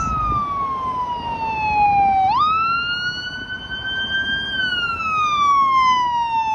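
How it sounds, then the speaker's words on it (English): A loud wailing siren sweeps down and back up in pitch as a paramedic ambulance goes by close on a Toronto street, over a low rumble of traffic. "there goes a paramedic ambulance"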